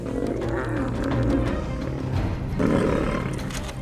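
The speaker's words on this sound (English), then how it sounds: "When confronting each other, they not only roar, but lash their tails fiercely for balance" Lions fighting in the wild give loud, continuous growling roars, with a surge in intensity near the end and no other voices.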